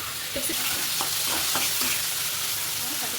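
Chicken pieces being stirred and fried in a pan for chicken kosha, a dense continuous sizzle with a spatula scraping and knocking in an uneven rhythm, close and steady.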